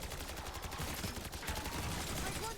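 A light machine gun in Black Ops 6 Zombies fires in rapid bursts over a dense, noisy game soundscape, the shots close and continuous.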